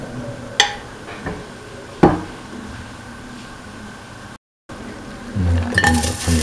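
Metal utensil clinking against a cooking pan while oil is spread for a kidney bean and potato stew, a few sharp separate clinks and scrapes over quiet kitchen background, with a brief gap then rattling near the end.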